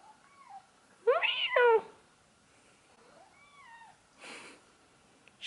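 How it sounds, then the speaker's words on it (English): Kitten giving a few short meows and little chirps, one louder meow-like call standing out near the middle, with quieter chirps and faint rustling around it, close and fairly soft overall. "Why are you meowing?"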